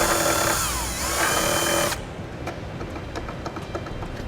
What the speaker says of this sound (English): what we've got is just a rotary bit here to kind of bare some steel or kind of get some of that paint off there